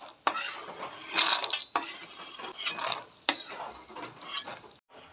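Fried chickpeas and corn scraped from a pan into a bowl: metal spoon clinks and scrapes in several separate bursts with short pauses, close and fairly loud, with faint lingering sizzle and no talk.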